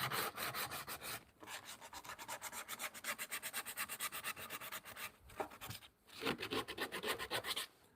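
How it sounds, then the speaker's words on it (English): A hand file rasps rapidly against leather for a sandal, steady close back-and-forth strokes in quick rhythmic runs with brief pauses between bursts, no voices. "I think I'll have to use the file here"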